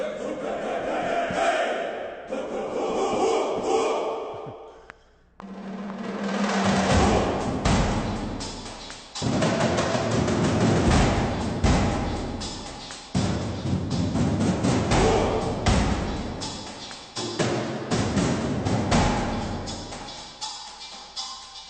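8Dio Epic Toms ensemble drums pound in loud, dense booming hits and rolls, with a brief pause, while a ringing textural convolution tone chimes in the background.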